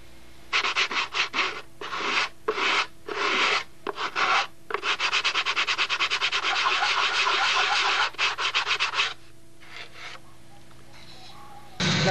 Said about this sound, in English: I want to make sure I have enough material to do the sanding with.